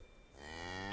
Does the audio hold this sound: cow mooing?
yes